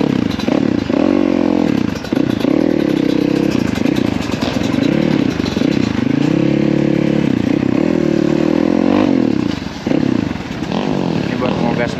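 A trail motorcycle revving hard to climb uphill, loud and close with the engine note surging and falling in repeated throttle bursts, rattles and clatter throughout, and someone talking over it.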